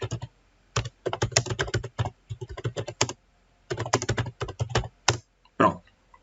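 Quick bursts of typing on a computer keyboard as a short answer is entered into a Google Forms quiz, crisp close key clicks in irregular clusters separated by brief pauses, with no talking.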